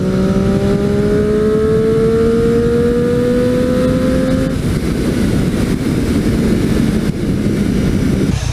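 Triumph Street Triple 675 motorcycle engine revving up with a rising, steady pitch for about four seconds, then settling into a loud, continuous roar of wind and engine noise while riding.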